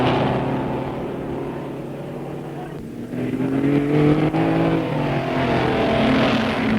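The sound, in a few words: racing cars driving round the 1959 Bathurst 100 course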